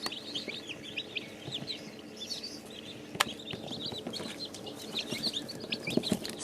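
Young chickens fill a coop with steady soft clucking and high peeping chirps, many birds at once, close and continuous throughout.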